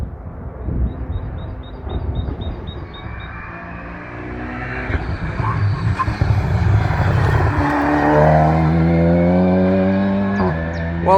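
A Volkswagen Golf R TCR race car approaches and roars past at a racetrack, its engine rising loud with revving, gear-shift pitch sweeps, then dropping away, with faint other engine noise beforehand.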